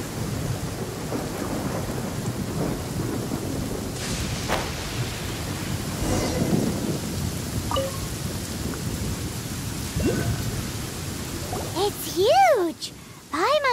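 Steady rain and rolling thunder from a storm in the Genshin Impact game world, a continuous loud wash with rumbles building through it; a character's voice cuts in briefly near the end.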